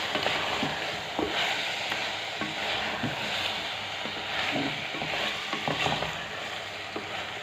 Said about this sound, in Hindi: कसूरी मेथी डाल दूँगी मसल के थोड़ी सी और फिर इसको भून लूँगी